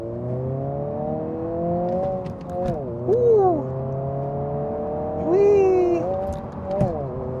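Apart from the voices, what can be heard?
2024 Honda Civic Si manual car revving and accelerating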